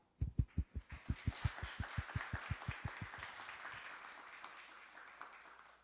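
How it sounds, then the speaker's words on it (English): Audience applause at a security forum, starting with a run of sharp, evenly spaced claps that blend into a faint, continuous wash of clapping from a distant crowd. "let's welcome him onto the stage screen with a big round of applause."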